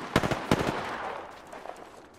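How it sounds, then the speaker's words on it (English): Rapid bursts of gunfire in a military shooter video game, a few sharp cracking shots clustered at the start followed by fading echo and background rumble. "Opening fire."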